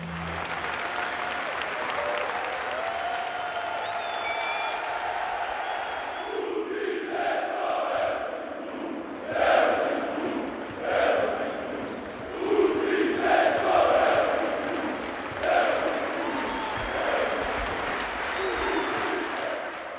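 A crowd at a Partizan EuroCup basketball game roars with applause and cheering, building into loud, surging waves of chanting voices that rise and fall over a steady arena din.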